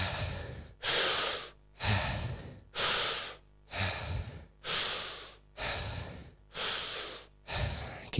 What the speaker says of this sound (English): Take one breath in. Get all aligned. And here we go. Big breath in.